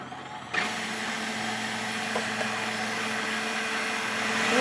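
A food processor starts abruptly and runs steadily with a loud, close whirring drone as it chops washed eggplants for zacusca, without talk.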